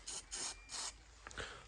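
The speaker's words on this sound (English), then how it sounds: "This spray tack, which is used a lot for polythene membrane" Spray tack adhesive for polythene membrane on a blockwork building site, released in several short hissing bursts: three longer sprays, then two quicker puffs close to the can, with no talk.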